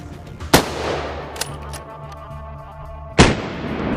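Two loud, sharp hunting rifle shots fired at a wild boar during a hunt in the Americas, cracking out about two and a half seconds apart with a faint rumble between them and no talk.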